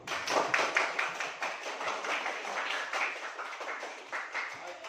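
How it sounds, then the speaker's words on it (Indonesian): Classmates in a school lesson clap for a group that has just presented, a fairly soft, quick patter of many hands lasting several seconds. "tepuk tangan untuk kelompok 2"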